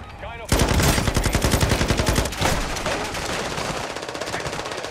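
Rapid automatic gunfire in Call of Duty Modern Warfare II bursts in loud after a brief quiet, a dense rattling stream of shots that gradually thins and fades toward the end.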